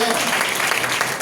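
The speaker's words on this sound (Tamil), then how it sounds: "சந்தோஷமா கைத்தட்டு." A church congregation claps during a sermon, a dense burst of applause mixed with voices throughout the short moment.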